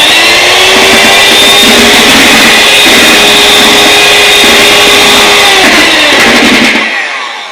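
Electric hand beater running steadily at its lowest speed, mixing oil into cake batter, a loud continuous whir with a faint rhythmic churn, close by and alone, cutting off near the end.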